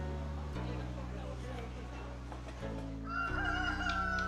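Chickens cluck and crow faintly beneath a steady tonal musical backing. A voice may be present.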